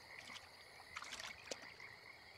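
Frogs croak by a log in The Sims 4, a few scattered croaks and chirps rising over a quiet ambient bed, soft and mid-distance with no talking.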